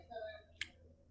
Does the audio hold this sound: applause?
no